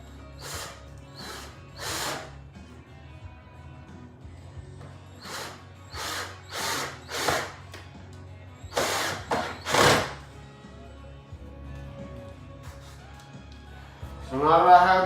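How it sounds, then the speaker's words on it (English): A power drill driving screws to fasten a hinge on a DIY travel case, with several short whirring bursts separated by pauses. Quiet talk runs through the clip, and it ends with a louder burst of sound. "I'll go ahead and put the rest of the screws in no particular order."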